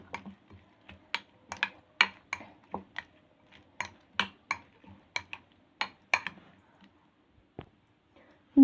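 Spoon or utensil stirring sliced onion stuffing with sauce in a bowl, a series of close, sharp clinks and taps in an irregular rhythm with short pauses, no talking.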